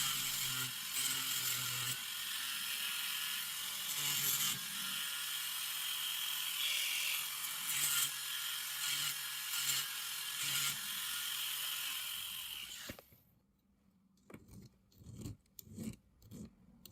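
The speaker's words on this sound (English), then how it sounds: "I'm using my mini drum sander to remove what's left of those sprues as well as any sharp edges" A mini drum sander grinds away leftover sprues and sharp edges on a cast engagement ring, a steady high whirring rasp that runs close and continuous, then stops abruptly, leaving a few short scraping and handling noises.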